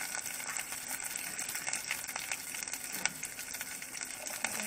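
Green leaves and onion leaves land in a hot frying pan while sardines cook, and a dense, steady sizzle holds close and loud all the way through, with faint clatter and no speech.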